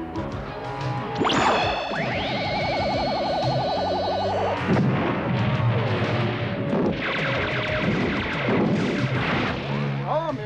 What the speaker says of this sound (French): fait donner la grosse artillerie